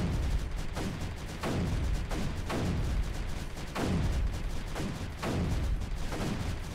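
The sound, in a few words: cannons firing in video game Creeper World 3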